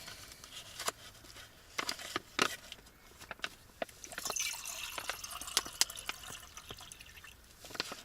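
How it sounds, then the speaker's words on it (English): Water trickles and splashes into a pot at a camp overnighter in a Polish lavvu tent, with irregular drips, pours and metallic clinks close by and no talking. "Measure some water into it."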